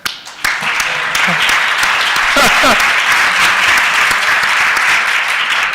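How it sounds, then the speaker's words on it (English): An audience at a Space Apps hackathon event breaks into sustained, dense hand clapping that starts abruptly and continues loudly and evenly, with a brief voice near the start. "If you are tired, clap your hands."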